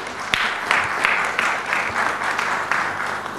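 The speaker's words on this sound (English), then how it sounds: "I'm sure this deserves a riveting round of applause." Loud, steady applause from the audience at an e-commerce marketplace conference after a panel session, dense continuous clapping with sharper individual claps standing out, sustained throughout.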